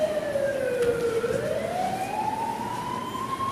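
An ambulance siren wails, sweeping slowly down and then back up in pitch, loud and steady, with a low rumble of traffic underneath and no voices.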